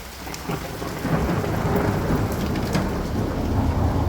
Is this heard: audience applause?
no